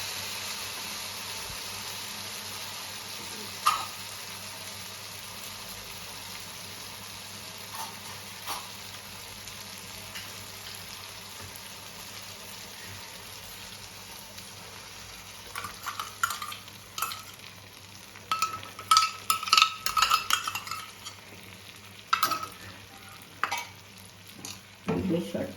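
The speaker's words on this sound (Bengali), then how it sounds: "দুধের সরটা দিয়ে একটু নাড়াচাড়া করে" Whipped milk cream is stirred into a pan of cauliflower roast with softened tomatoes, a quiet simmer underneath broken by scattered clinks and scraping stirs that grow busier toward the end.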